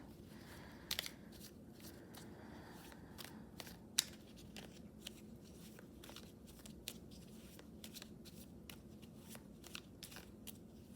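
Tarot cards are shuffled softly, with scattered light clicks and riffles at an irregular pace against a quiet background.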